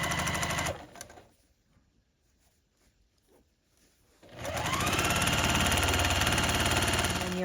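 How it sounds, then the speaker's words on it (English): A sewing machine runs in a steady, close whir while stitching strips onto the edges of a quilt block, stops for a few seconds of quiet fabric handling, then starts again and sews continuously. "So you'll just sew 1 strip onto each edge of this block."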